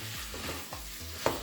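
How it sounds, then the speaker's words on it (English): Minced meat filling for a pan-made meat pie fries while being stirred, a steady soft sizzle with a few low scraping strokes of the utensil against the pan. "Fry it fast. Separating it at the same time so that it doesn't clump up."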